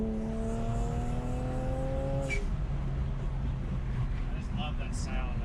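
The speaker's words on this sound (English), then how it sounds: "I'm really just listening to the sound of the turbo." A BMW turbo engine runs steadily at a cold start outdoors, with a steady tonal drone that shifts partway through over a constant rumble, close and fairly loud.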